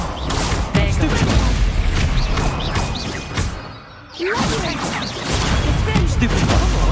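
Spell effects in Hogwarts Legacy, the Stupefy stun spell, burst through a loud, dense combat mix as repeated crashing impacts and whooshes, with a brief lull midway before the barrage resumes, and a voice shouting over it.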